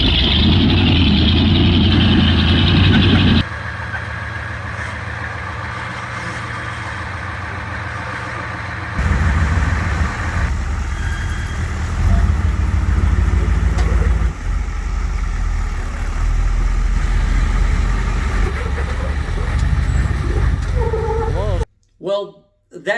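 A 7.3 liter diesel rock buggy engine runs loud and low, idling and revving through several shifts in level, with speech heard alongside.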